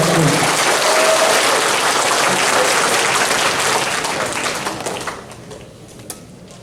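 Sustained, loud audience applause for the national police chief at a South Papua regents' forum, a dense wash of clapping that thins and dies away in the last seconds.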